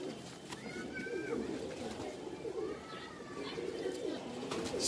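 A Punjabi Malwai pigeon in a breeding setup gives soft, low, repeated coos, fairly close, with someone speaking over them.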